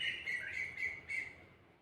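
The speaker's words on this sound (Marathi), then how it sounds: "पण आज जरा जास्त जोराने चिमण्यांचा आणि त्यांचा आवाज आहे" A few quick, high chirps from sparrows, faint and slightly distant, with short pauses between them.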